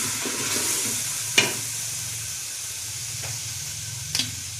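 Beef and karela (bitter gourd) fry with spices in a pan, a soft steady sizzle with a few sharp clicks of stirring, close and alone without talk.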